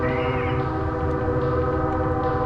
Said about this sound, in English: And that's a train, because we have one of those that goes by here.